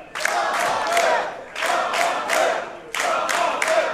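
A wrestling show crowd chants in rhythmic bursts, three sets of three loud, evenly spaced shouts separated by short pauses, filling an indoor venue.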